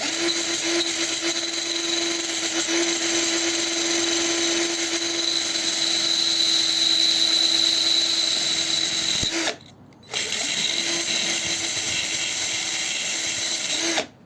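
A power drill whines steadily at close range for about nine seconds while cleaning a part on a Znen Tommy 125 scooter, cuts out briefly, then spins up again and runs until it stops.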